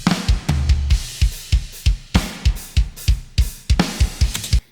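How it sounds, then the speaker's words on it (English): Isolated drum stem from a song, punchy kick and snare hits with bright cymbal wash in a steady rock groove, loud and dry with no other instruments. "we've got the drums."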